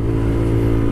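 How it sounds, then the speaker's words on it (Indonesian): A bored-up Honda CRF supermoto motorcycle engine runs with a steady, loud, close mechanical drone for a brief moment, with no voices. "Kita naik motor."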